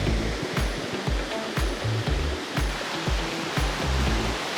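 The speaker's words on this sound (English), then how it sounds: "here we are at the top of the waterfall." A waterfall at the top of a swimming hole near Belmont, Wellington, pours with a loud, steady roar and rushing splash that fills the whole clip, with no voices.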